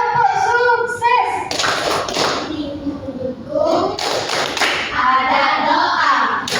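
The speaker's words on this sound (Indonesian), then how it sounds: "Ayo, tepuk sukses." Children in an Indonesian classroom perform the 'tepuk sukses' clapping routine, a loud run of rhythmic claps and thumps close by, with young voices chanting and a teacher talking over it.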